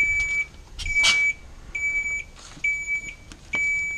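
A series of sharp electronic light-warning beeps inside a Volvo FM truck cab, at an irregular pace, close and clear, with brief clicks between them in an otherwise quiet space.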